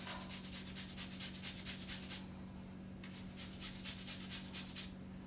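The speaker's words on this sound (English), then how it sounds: "Trying to get all the zest I can from the lemon without cutting myself." A lemon is rubbed against a grater in quick repeated scraping strokes, a steady rasping rhythm that pauses briefly midway and then resumes, close up and fairly quiet over a low background hum.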